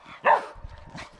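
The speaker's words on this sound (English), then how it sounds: "Stop barking at me." A pet dog barks once, a loud close bark, followed by softer low grumbling and a short yip.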